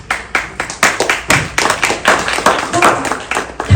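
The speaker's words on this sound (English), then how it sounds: "Thank you for the clapping" An audience claps at a talk about a TB treatment NGO in India, a sparse run of distinct, fairly close handclaps at an uneven pace with no voices over them.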